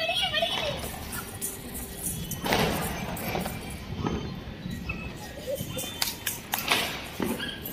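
Diwali firecrackers burst outdoors in a string of sharp, irregular cracks and thuds, some close and loud, with people talking and calling out over the blasts.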